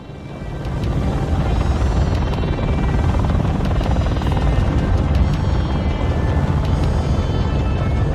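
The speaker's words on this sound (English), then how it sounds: "trying to get that chopper there" Helicopter rotor thumping in the video game Warno, a loud, steady chopping drone that holds unbroken for the whole stretch, close and dominant with no other sounds standing out.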